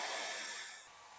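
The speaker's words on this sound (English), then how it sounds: "We'll get our heat gun," A heat gun blows hot air over carbon fiber vinyl wrap, giving a close, steady airy hiss that eases off slightly toward the end.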